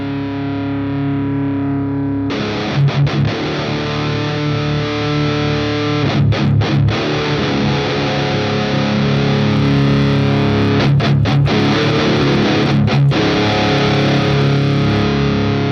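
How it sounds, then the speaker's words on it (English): Bass guitar played through an amp simulator plugin, producing a loud, heavily distorted sustained tone with a few choppy muted strums and note changes, no voices. "So that's going to be the bass tone that I'm working with everything at nominal for volume."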